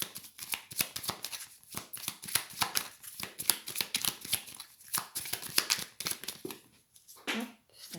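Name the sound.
cards shuffled for a complementary tarot card draw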